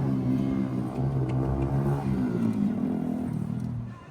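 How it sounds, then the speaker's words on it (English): A noisy motorbike passes along a street in Blackpool, its engine rumbling and revving loudly and close by for a few seconds before easing off. "There always has to be a noisy motorbike though"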